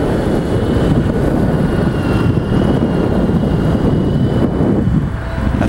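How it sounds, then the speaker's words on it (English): A Honda Goldwing GL1800 motorcycle engine runs steadily and loud, a smooth, even drone with no talk over it, holding level throughout before easing slightly at the end. "it fires right off it runs just as quiet runs just like a new one"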